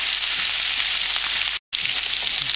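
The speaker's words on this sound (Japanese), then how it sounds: "これまた炒めていきます。" Ground pork and potatoes stir-fried in a pan, a loud close continuous sizzle and crackle with a momentary break partway through.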